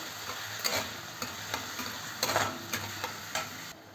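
Onions frying in a pan over medium gas, cooked for goat intestine masala, with a steady soft sizzle and a series of sharp scraping stir strokes at irregular intervals, close and moderately loud.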